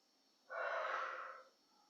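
A single slow, breathy exhale during a gentle beginner yoga flow, close and fairly soft, lasting about a second with no talking.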